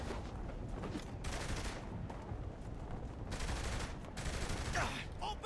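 Gunfire in the video game Saints Row: The Third comes in quiet, rapid bursts of shots, separated by short gaps, under low background game sound.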